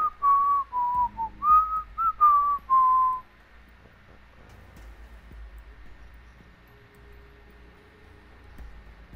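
A person whistles a short wavering tune in several clear pitched phrases over about three seconds, close and loud, then it stops and only faint background rustle and low hum remain.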